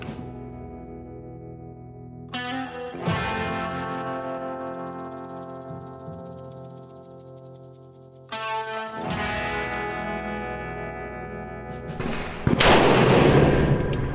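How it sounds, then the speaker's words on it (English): Southern Cross Small Arms Taipan Light rifle fired at an outdoor range, sharp reports with long ringing, echoing decays, a few spaced shots followed by a final loud blast, no talk. "We'll throw an optic on it and we'll put a few more rounds down the range."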